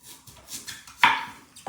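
Onion and small garlic cloves being chopped with a knife while making shurpa, a few soft sparse cuts and one sharper knock on the board, close and quiet.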